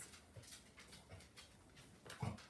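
A dog barks indoors, a few short, close barks spread across the clip with the loudest burst near the end, amid faint background noise.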